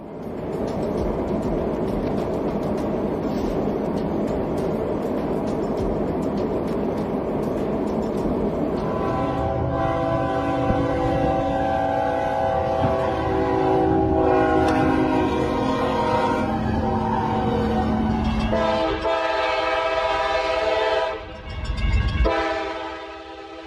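An oncoming train passing, a heavy rumbling roar with a sustained horn blast, building and shifting as the cars go by, then a loud burst near the end.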